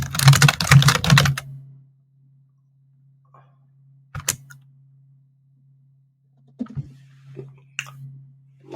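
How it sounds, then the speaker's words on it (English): Fast computer keyboard typing rattles out in a dense burst of clicks for over a second, then stops, leaving a steady low hum and a few scattered clicks. "we can hear your keyboard"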